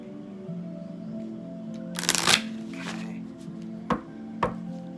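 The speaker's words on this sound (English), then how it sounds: "I'm gonna go ahead and try shuffling." Viking oracle deck cards are shuffled by hand, a quick riffling burst followed by a few sharper snaps of cards settling, close and clear over a quiet background hum.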